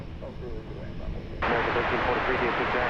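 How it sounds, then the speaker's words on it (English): An American Airlines Airbus A321 jet at DFW Airport, a steady broadband engine roar that swells abruptly louder partway through, heard at a distance with a voice talking over it. "the one on the left is American Flight 1343. It's off to Cancun. It's an Airbus A321."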